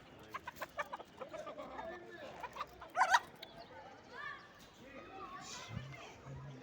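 Chickens and a rooster cluck and squawk nearby at a poultry market in Konya amid people talking, with a few sharp bird calls rising over the murmur.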